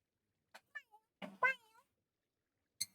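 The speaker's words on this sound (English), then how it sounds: "She's meowing loudly" A cat in a spooky visual novel game meows several times in short, separate calls that rise to one louder meow near the middle, with silence between them and a final brief cry.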